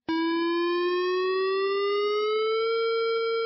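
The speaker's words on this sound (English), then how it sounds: "It is the sound of a warning siren going off at a nuclear power plant." Nuclear power plant warning siren at San Onofre sounds one loud sustained tone that switches on abruptly and slowly rises in pitch, rich in harmonics, with no voices.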